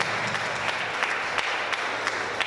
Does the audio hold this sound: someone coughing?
no